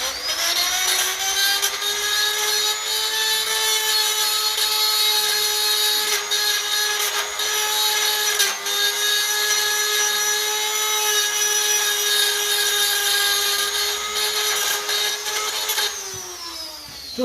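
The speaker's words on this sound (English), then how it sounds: "I'm just going to clean around the hole there in the dynamo bracket with the Dremel" A Dremel rotary tool cleans around a bolt hole in the dynamo bracket of a 1957 Ferguson FE35 TVO tractor, a continuous high-pitched whirring whine held steady at close range, winding down briefly near the end.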